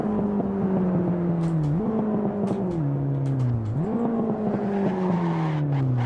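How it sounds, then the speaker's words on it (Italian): A car engine revs through a rising and falling drone, dipping and climbing in pitch as it shifts, heard steady and moderately close. "Sentite che sound! Mi fa impazzire sta macchina."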